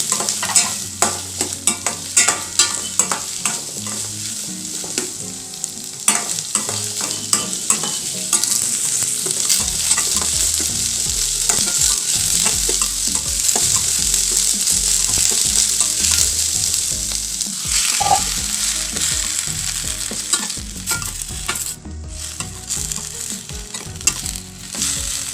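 Onions and garlic with asafoetida sautéing in a pan for tomato chutney: a steady, fairly loud sizzle runs throughout, with repeated scraping stir strokes and no talking.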